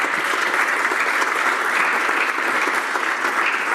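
Sustained applause from members in the House of Commons chamber, dense, even clapping filling the room without a break.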